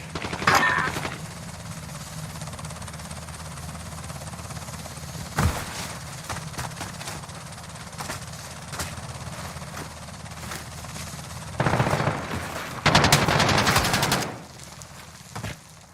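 Rapid automatic gunfire crackles in Modern Warfare with scattered single shots and a couple of louder sustained bursts near the end, over a steady background hum, and a voice briefly talks.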